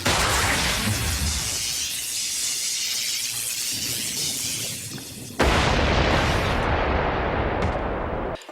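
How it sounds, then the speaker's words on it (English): Explosions in an animated Batman episode as high-voltage cables touch chemical vats after gunfire: a loud sustained roaring blast with crackling debris, then a second sudden booming burst about halfway through, no speech. "causing an explosion when the high voltage cables touch the vats"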